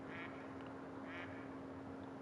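A duck in the hunting game theHunter: Call of the Wild gives two short, faint quacks about a second apart over a steady low electronic hum.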